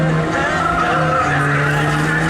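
A modified car with an enlarged engine roars continuously while tires squeal and skid at an autoslalom race, the loud sound sustained throughout without pause.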